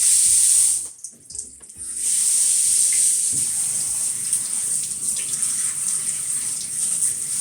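Salted cabbage is rinsed under a running tap, a loud steady gush of water that briefly stops and then resumes, with dull splashing and handling in a sink or colander.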